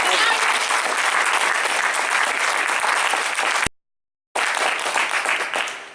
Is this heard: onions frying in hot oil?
no